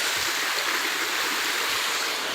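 The Avalon Falls waterfall feeds a steady, close rush of stream water, an even broadband hiss that runs unbroken from start to finish.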